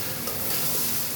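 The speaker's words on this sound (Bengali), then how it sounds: "মশলার সাথে কাঁঠালটা দিয়ে বেশ অনেকক্ষণ কষাই নিলাম" Green jackfruit cooks in oil with spices, giving a dense, close sizzle with faint stirring underneath, steady and unbroken for a brief moment.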